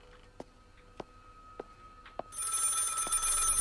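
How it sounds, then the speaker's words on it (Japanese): An old telephone rings in the horror game Maid of Sker, a few short bell rings spaced about half a second apart before a bright, steady electronic tone swells up for the rest. "電話だ。"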